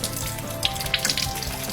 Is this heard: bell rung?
no